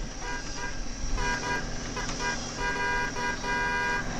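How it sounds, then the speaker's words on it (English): Car horn honking inside a vehicle connected to CarPlay, a steady tonal toot held throughout with faint pulsing and road noise underneath, moderately quiet. "Honk honk."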